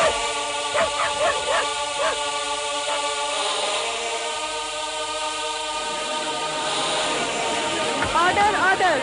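A dog barks and yips in short, excited bursts, close by, amid a tonal, echoey background hum.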